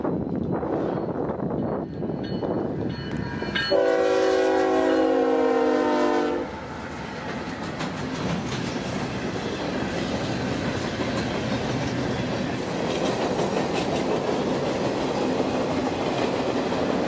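A local freight train on the Palmetto Sub rail line in Florida rushes past at speed, its horn sounding in a strong blast of several seconds amid continuous rumbling wheel and car noise.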